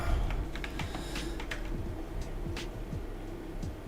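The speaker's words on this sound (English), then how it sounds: "The keyboard in my mic, you mean? You're hearing too much clicking?" Computer keyboard clicking picked up by a streamer's microphone, steady irregular keystrokes running throughout at moderate level over a constant low hum, with no talk.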